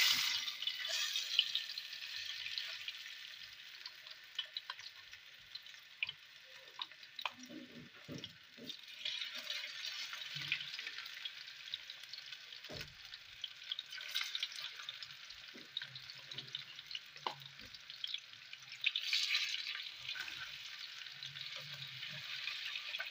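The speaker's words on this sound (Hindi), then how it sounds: "ऑयल हमारा जो है वो अच्छी तरह गर्म हो चुका है, तो अब हम इसके अंदर जो है वो अपनी ये मैरिनेटेड फिश डालते हैं" Marinated masala fish frying in hot oil, with a steady, bright sizzle and crackle that lasts throughout, plus occasional soft stirring and spattering sounds, close up and with no talking.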